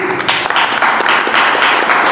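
A crowd claps steadily in dense, even applause, fairly loud and continuous for the whole stretch with no talk over it.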